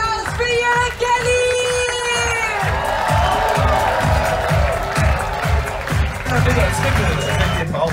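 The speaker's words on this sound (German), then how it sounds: "einen großen Applaus" Loud applause and cheering from a large crowd aboard a cruise ship, steady rhythmic clapping under whoops and music.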